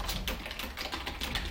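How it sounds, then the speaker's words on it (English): Rapid clicking keystrokes on a computer keyboard, close and moderately quiet, a quick uneven rhythm of taps with no voices. "Typing is surprisingly hard when your characters don't appear instantaneously"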